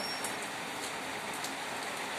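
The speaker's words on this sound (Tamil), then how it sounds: "எங்கள் ஊரில் மழையை பாருங்கள் ஒரு அரை மணி நேரம் கிட்ட மழை போயிட்டுருக்கு" Steady rain falls in a village, a continuous close hiss of drops on surfaces without pause or talk.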